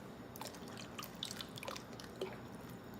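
Lasagna soup with added salt and heavy cream at a light boil, giving faint, scattered drips and small bubbling pops over a steady low background hiss, with no talking.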